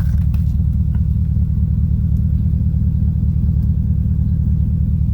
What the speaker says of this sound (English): It does not sound very Porsche-like